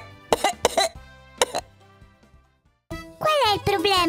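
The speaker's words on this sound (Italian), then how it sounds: "Continua a tossire!" A few sharp coughs in quick succession, then a young voice speaking clearly up close.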